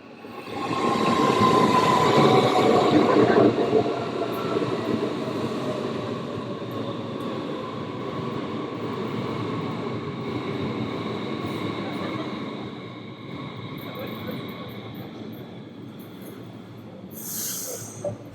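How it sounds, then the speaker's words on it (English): A train pulling into Frankfurt Airport station, a loud steady rolling rumble with a faint brake whine and tones fading as it slows, ending in a short hiss. "And here's the train."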